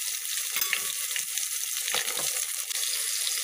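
Chopped ginger and tomato fry in a pan for a Bengali vegetarian dish, giving a continuous close hiss of sizzling with a few soft stirring scrapes, and no talking.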